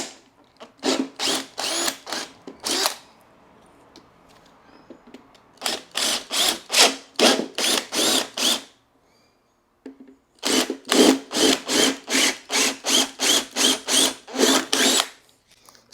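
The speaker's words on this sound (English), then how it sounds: "you simply drill out the holes. So I'm just going to drill all 3 out straight away." A power drill bores out three stripped starter bolt holes in the engine cover of a Victa two-stroke lawnmower, three loud bursts of rapid whirring pulses separated by short pauses.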